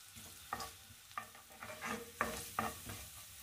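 Gentle sizzling of chopped garlic and ginger frying in ghee, broken by a series of scraping stirs and clinks of a spoon against the pan.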